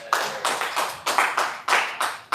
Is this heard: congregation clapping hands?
yes